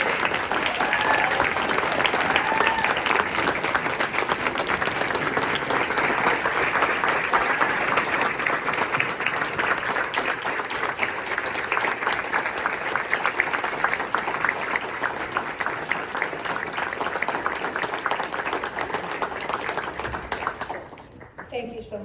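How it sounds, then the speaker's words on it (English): Audience applause at a gala ball fills the space, a dense sustained wash of many hands clapping that fades out near the end. "Please join me in giving a round of applause to our incredible"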